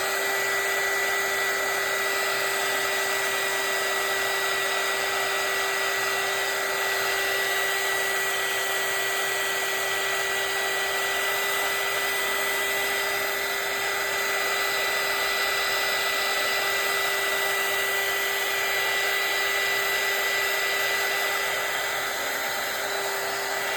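A hair dryer blows steadily and loudly at close range over a junk journal collage page, a constant whooshing hum with a fixed whine that never changes for the whole stretch.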